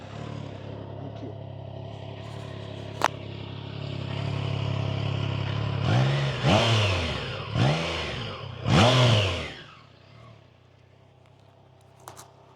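A Triumph Trident 660 motorcycle idles, then its engine is revved hard four times in quick succession, each throttle blip rising and falling before settling back to a quiet idle.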